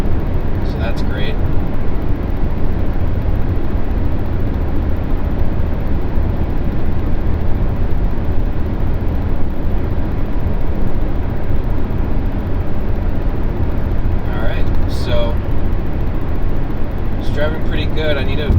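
A 2018 Subaru Crosstrek Limited rolls along the road, its steady tire and road roar filling the cabin at an even level throughout, with brief faint clicks and ticks near the start and end.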